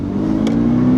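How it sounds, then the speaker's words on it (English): A 2013 or 2022 Subaru BRZ engine pulls steadily under acceleration, a loud, close, sustained drone with a rising tone and no break. "now you hear the car."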